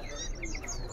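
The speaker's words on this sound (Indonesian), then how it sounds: "Perenjak coki, banyak juga nih perenjak cokinya." Small perenjak coki prinia songbirds at a bird market give faint, brief high chirps over a busy, murmuring background.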